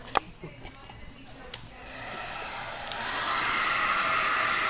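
A hair dryer blows on a man's hair after a scissor haircut, starting after a few clicks and handling sounds and building into a loud, steady close-up whoosh.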